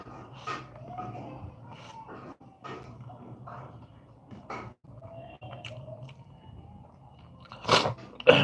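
Someone eats lunch with close, soft chewing and occasional crunchy bites, quiet and irregular, with a louder burst of rustling or crunching near the end.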